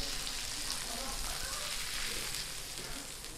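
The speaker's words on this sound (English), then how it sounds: "And we continue buttering up the steak here." Steak sizzling in butter in a pan, heard as a steady, close, hissing fry with small crackles throughout, at moderate level.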